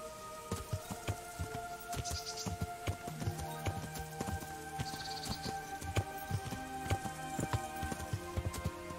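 In a video game, steady clip-clop of horse hooves at a trotting rhythm, close and moderately loud, over a faint background with occasional soft rattles.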